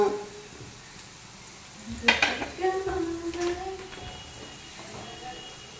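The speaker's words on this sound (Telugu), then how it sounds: "ఉల్లిపాయలు బాగా ఫ్రై అయిపోవాలి" Onions frying in a pan for an egg garlic curry, with a soft steady sizzle and clinking stirring of utensils against the pan, briefly louder midway, with faint speech in the background.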